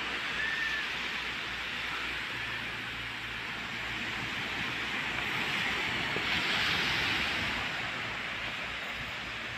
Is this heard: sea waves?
yes